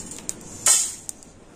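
Lightly fried spices are taken out of a pan: close metallic clinks and scrapes of a utensil against the pan, with one louder ringing scrape in the middle and a few short taps around it.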